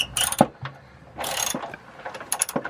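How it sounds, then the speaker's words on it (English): A ratchet fitted with an 18mm socket loosens bolts on a trailer hitch on a Sprinter van with a step bumper, giving short bursts of clicking and metallic rattling separated by brief pauses, fairly close. "just a regular socket with an 18mm. And yeah, I'm just loosening these bolts."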